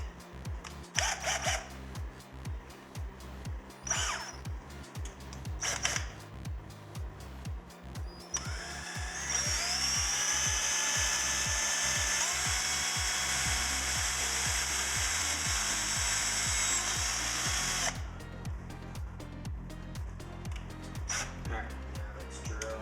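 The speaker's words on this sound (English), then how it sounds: "Alright, now let's drill the actual hole." A power drill bores a hole for a DIY camera rig, its steady high whine running for about ten seconds between shorter bursts of handling and wood rubbing; the nearby drilling is loud and continuous.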